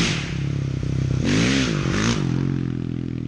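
A dirt bike engine revs hard in first gear for a power-up wheelie, rising and wavering in pitch with a brief surge in the middle, then settling into a steady, loud drone with some scraping clatter.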